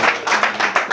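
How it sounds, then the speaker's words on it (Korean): An audience at a speech lecture show welcomes the speaker Dr. Lee Chang-ho with a brief run of loud, close clapping in a few pulsing bursts. "우리 이창호 박사님 큰 박수로 모시겠습니다"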